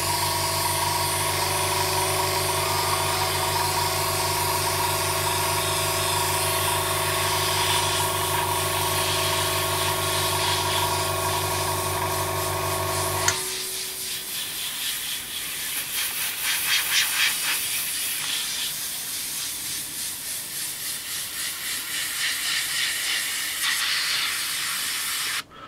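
Iwata Revolution HP CR airbrush spraying paint in wide patterns: a loud, steady hiss of air over a constant humming drone that cuts out partway, leaving an uneven, fluttering spray hiss that continues to the end.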